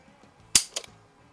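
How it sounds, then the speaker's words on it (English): A Smith & Wesson Model 1917 revolver, cocked and dry-fired in single action, gives a close, sharp metallic snap followed by a second, softer click a quarter-second later in a quiet room. "let's go ahead and we'll cock it, and we will do a couple in single action"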